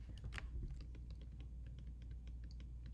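Fingers type on a computer keyboard while x values are entered into a Desmos table, giving a steady run of quiet, close key clicks over a low background hum, with no speech.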